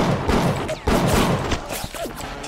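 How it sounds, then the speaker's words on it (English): Gunfire in the video game Bioshock crackles in several sharp bursts amid game effects and a rising tone, loud and close with a brief voice in between. "Hey, come on, shooting's not cool."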